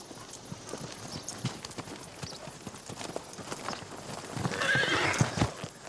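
Hooves of a ridden horse clip-clopping in a steady walking rhythm at moderate distance, with a horse whinny and rustling building near the end; quiet overall with no speech.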